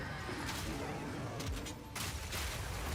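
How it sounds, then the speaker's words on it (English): Explosion in the action RPG Path of Exile 2, set among combat with a mortar-wielding mercenary: a dense, noisy burst of booming blasts and crackling impacts that stays loud through the moment, with a brief dip before another wave of detonation. "Oh wow, he just died to that explosion."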